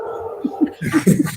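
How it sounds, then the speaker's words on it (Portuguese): Dogs yip and whimper in a few short, high bursts, fairly near, over a low background hum. "Olha os cachorros."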